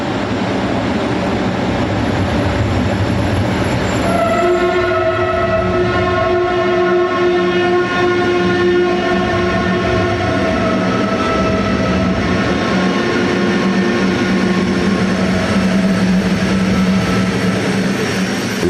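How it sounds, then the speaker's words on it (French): A French RTG turbotrain heading back toward its Vénissieux depot, a loud, steady turbine roar and rumble with a sustained tonal whine rising in over it, close and continuous throughout. "le turbotrain s'en retourne vers le dépôt de Vénissieux"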